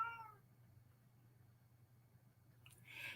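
A house cat meows indoors: one short meow at the start and another rising cry near the end, fairly quiet over a steady low hum, with no talking.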